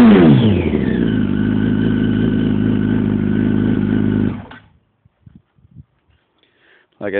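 A 2004 Yamaha R1 custom sport motorcycle, 1000 cc, revved up close: a loud, sustained high-rpm engine roar that holds for about four seconds, then cuts off abruptly and leaves near silence with a few small knocks.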